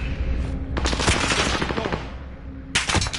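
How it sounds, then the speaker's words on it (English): Rapid automatic gunfire from a PS5 shooter game crackles in two loud bursts, a long volley followed by a brief pause and then a shorter one, with no talk over it. "We're taking fire."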